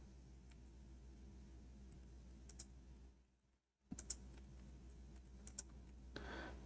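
Keys on a computer keyboard are tapped in quick, faint bursts while a search is typed, with soft clicks running irregularly over a steady low hum and a short silent gap partway through.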